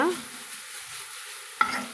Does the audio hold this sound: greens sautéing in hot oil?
yes